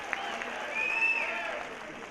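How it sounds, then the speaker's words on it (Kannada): An audience at an award ceremony claps in a steady, moderately loud burst that swells briefly in the middle and carries on evenly. "ಒಂದು ಬನ್ನಿ ಜೋರು ಚಪ್ಪಾಳೆ ಪ್ಲೀಸ್."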